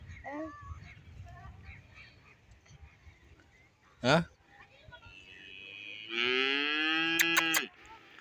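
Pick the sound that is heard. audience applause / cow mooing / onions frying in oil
cow mooing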